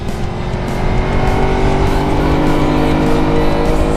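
Onboard engine sound of a Kawasaki Versys X 300 motorcycle on the move, a loud, steady, rough drone with wind noise that stays close and continuous throughout, no voices.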